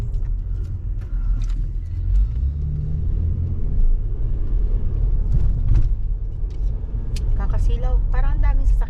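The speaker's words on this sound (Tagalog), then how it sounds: "Parang ang daming sasakyan. Uwian ng mga estudyante." Busy road traffic at school dismissal time, a steady rumble of passing cars and buses with engines revving and swelling, close by, while people talk over it.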